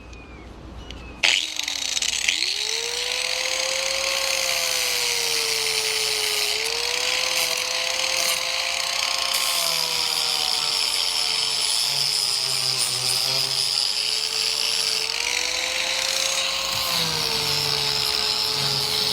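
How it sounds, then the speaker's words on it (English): A high-pitched power grinder runs steadily up close, removing material on a low-cost skiff build, its whine holding loud and continuous after starting with a quick spin-up and shifting slightly in pitch under load. "so I'm just gonna grind this stuff away"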